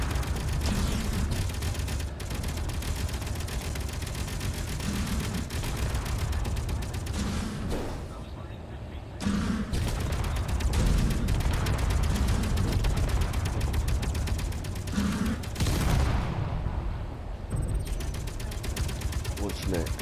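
Rapid bursts of gunfire from the video game Space Engineers, dense and continuous across the whole stretch, layered over mechanical clatter and a steady game soundtrack, with only brief dips in intensity.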